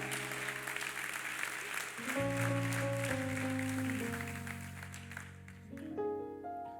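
A church congregation applauds at a Sunday service, a dense sustained clatter of many hands under loud sustained musical tones that shift pitch, the clapping thinning toward the end.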